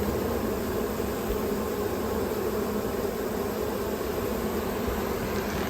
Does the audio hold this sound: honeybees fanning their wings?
yes